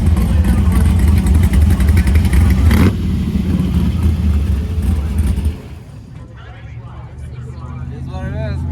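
A drag racing car makes a pass at South Georgia Motorsports Park, spinning its tires hard off the line; a loud engine roar fades into the distance, with voices talking over it.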